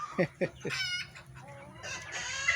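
Polish chickens cluck nearby in a few sharp, separate calls, followed by longer, drawn-out squawking cries that rise again at the end.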